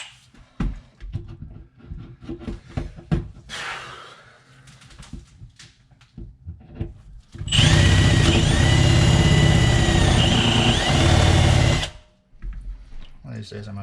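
After a stretch of quiet clattering and movement, a power drill whirs loudly and steadily for about four seconds while clearing a clogged kitchen sink drain, then stops abruptly.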